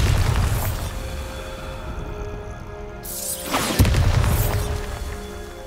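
Bombarda explosion spell in a Hogwarts Legacy dungeon, a heavy boom landing midway through a rumbling, echoing backdrop, then a sustained roar that lingers loudly afterward.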